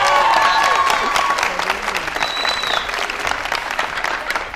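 Loud, sustained applause from an audience cheering a makeup artist, a dense wash of clapping with some crowd noise and a few whistles over the top.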